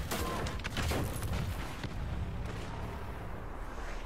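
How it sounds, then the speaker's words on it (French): Continuous gunfire and explosions from the Star Wars Battlefront beta, a dense, loud barrage of blasts and rumbling booms running steadily throughout with no clear gaps. "Ça tire dans tous les sens."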